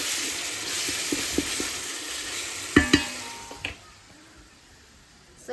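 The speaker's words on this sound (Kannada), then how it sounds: "ಇಲ್ಲಿ ಈರುಳ್ಳಿ ಟೊಮೆಟೊ ಹಣ್ಣೆಲ್ಲ ಫ್ರೈ ಮಾಡ್ತಾ ಇದ್ದೀನಿ" Onion and tomato frying in a pan, with a steady sizzle and a few sharp knocks and scrapes of the stirring spoon that fade toward the end. Nobody speaks.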